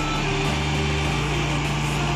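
A tractor engine at a sugar factory revs hard and steady while the tractor is stuck in the ground. The close, loud drone holds firm with a slight shift in pitch partway through.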